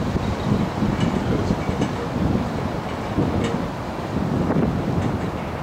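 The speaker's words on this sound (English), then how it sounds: "It is so windy." Strong wind gusting across an outdoor microphone while the Space Shuttle Enterprise arrives in New York, a steady, rough, full-band roar that rises and falls slightly throughout, with no voices.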